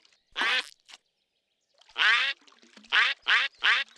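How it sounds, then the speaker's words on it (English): Cartoon ducks quacking in a Curious George episode: one loud quack, a short pause, then a quick run of four nasal quacks, close and clear. "There were real ducks."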